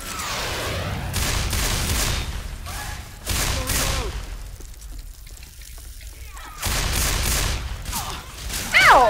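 Gunfire in the zombie shooter Left 4 Dead 2 during a chaotic fight, loud repeated bursts separated by brief lulls, with voices shouting and talking over the shots.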